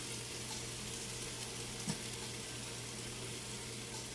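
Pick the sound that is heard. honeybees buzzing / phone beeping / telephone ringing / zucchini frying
zucchini frying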